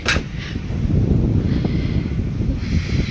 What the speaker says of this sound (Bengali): দেখো খুলতে পারছি না জানলা, এত হাওয়া দিচ্ছে, খোলা যাচ্ছে না।